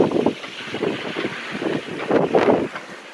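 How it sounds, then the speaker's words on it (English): Strong gusting wind of about 25 to 30 knots buffets a sailboat at anchor, roaring across the microphone in loud, uneven bursts with no voices. "too windy."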